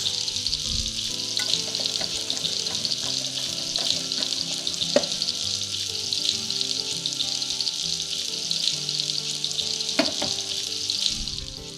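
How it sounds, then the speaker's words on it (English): Carrots sauté in a hot pan, giving off a steady close sizzle and crackle that runs throughout, with a few sharp clinks and stirring knocks breaking through now and then. "Now that pan's nice and hot, we're going to saute the carrots"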